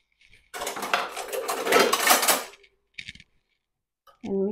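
A spoon is pulled from a cutlery drawer in a home kitchen, a loud stretch of metallic clinking and rattling of silverware, then a short clatter, with a voice starting at the end.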